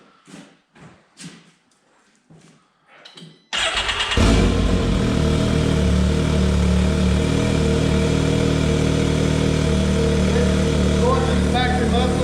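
An X3 engine with a muffler-bypass headpipe fires up after a few spoken words and runs loud and steady, a dense, raspy exhaust roar that continues unbroken at close range.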